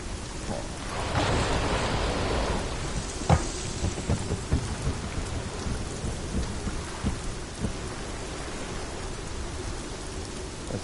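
Steady rain falling during a thunderstorm, a dense hiss of drops pattering on surfaces with a few sharper splashes and distant rumbles, no voices.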